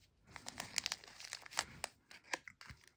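A Topps NPB Chrome 2022 trading card pack is torn open by hand. Quiet, close crinkling and ripping of the foil wrapper comes in quick, uneven bursts.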